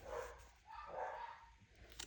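Dogs barking a few rooms off, a couple of muffled, quiet barks with short gaps between them.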